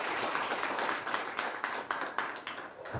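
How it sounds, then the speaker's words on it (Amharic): An audience at an Ethiopian television event applauds in a steady, moderately distant patter of many hands, with a low thump near the end. "ለቦራ ጭብጨባ"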